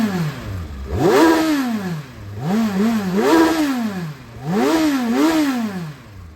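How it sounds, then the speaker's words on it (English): A 2018 Kawasaki Versys 1000 motorcycle idles close by, then its engine is revved three times, each rev rising sharply and falling back to idle. "Let me give her a few revs and you can hear how she sounds."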